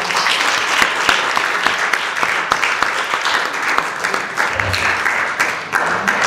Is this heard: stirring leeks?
no